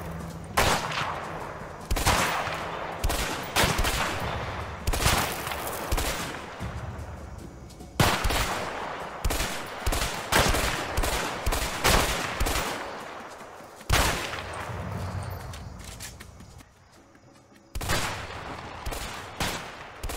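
Sniper and small-arms gunfire in A Way Out during a Mexico shootout: sharp, loud shots cracking out repeatedly in irregular bursts across the whole stretch, with echoing tails and brief lulls between volleys.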